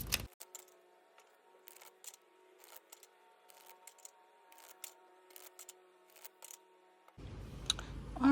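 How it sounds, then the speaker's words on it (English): Tarot cards shuffled in sped-up form, a rapid series of crisp riffling and slapping bursts over a faint steady hum, ending with louder handling noise. "I'm going to shuffle 7 times, and I will put this on fast forward for this section"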